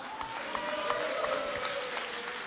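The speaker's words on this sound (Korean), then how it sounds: "다시 한번 박수 부탁합니다" Audience applause at a public candidate interview event in Gwangju, a steady wash of clapping at moderate distance, fairly faint, under a hall ambience with a tonal hum.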